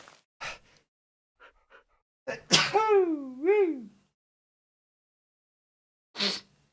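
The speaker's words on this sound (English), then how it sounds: "Oh, I'm gonna sneeze." A sharp sneeze bursts out, followed by a long wavering whoop of a voice, then a second short sneeze-like burst after a pause; a few faint breaths before.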